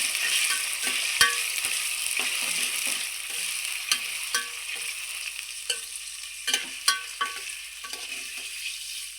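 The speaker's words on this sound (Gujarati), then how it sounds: "આ બધા ટુકડાને નાખી દેવું તેલમાં." Paneer pieces fry in hot oil for kaju paneer with a steady bright sizzle, punctuated by scattered clinks and scrapes of stirring.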